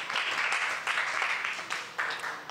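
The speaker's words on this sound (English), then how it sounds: "Round of applause." A crowd at a community event in St. Petersburg applauds steadily, dense clapping that swells and dips in a few waves without pause.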